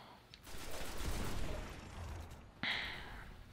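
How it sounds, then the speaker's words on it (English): Gunfire in the video game Destiny, a burst of shots rising to a sustained volley, then a sharper blast near the end, heard up close with no talking. "I could just shoot them in the head"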